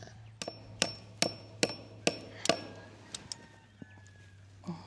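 A hammer strikes nails in a steady series of sharp, ringing blows, about six evenly spaced hits, then a few softer taps and a light clatter.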